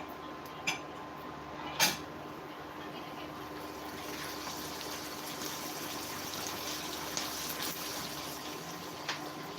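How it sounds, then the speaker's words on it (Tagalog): Water poured into a cooking pot, about half a cup, a steady gushing trickle with a few small clinks, moderately quiet and continuous. "lagyan natin ng konting tubig"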